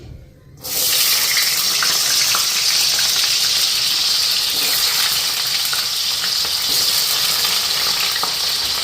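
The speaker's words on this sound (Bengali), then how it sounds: "এদিকে আমার কড়াই গরম হয়ে গেছে, আলুগুলি দিয়ে নিই।" Potatoes dropped into a hot wok, a sudden burst of sizzling that settles into a loud steady hiss of frying.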